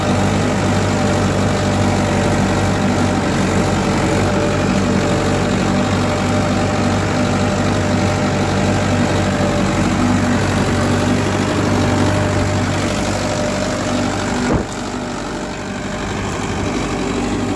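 A 47 HP Mahindra 575 SP Plus tractor engine idles close by, a steady, loud low rumble that holds even throughout and drops slightly in level near the end.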